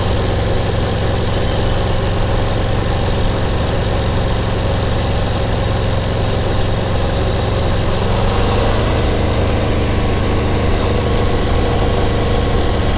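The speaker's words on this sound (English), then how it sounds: "Take your hand off the throttle and it chugs along with the torque it has." An Aprilia 1100 Factory sport motorcycle engine idles and chugs steadily at low revs, a continuous deep rumble with no pauses, close and fairly loud.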